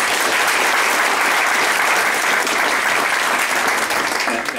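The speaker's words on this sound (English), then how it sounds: "Let's give him a round of applause." A round of applause fills a meeting room, dense and steady at near-constant loudness for the whole stretch, with no voices rising above it.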